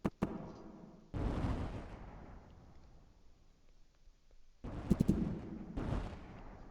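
Bombs dropped by dive bombers in the video game Roblox Warships go off as heavy booming blasts, one after about a second and a cluster of rumbling explosions near the end, each fading into a low roll, with no talking.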